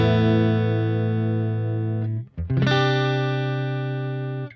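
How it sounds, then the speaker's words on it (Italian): Electric guitar played through an American Sound pedal, a sustained rich chord ringing loud and alone, briefly cut off near the middle before a second strummed chord rings out again. "Il suono della chitarra con solo il pedale American Sound acceso è questo."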